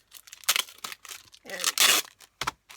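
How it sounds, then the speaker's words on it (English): Tape peeled off a plastic bag, several short sticky tearing rips mixed with crinkling plastic, close and fairly quiet. "Let me see if I can get this tape off here so I don't have to cut the bag open."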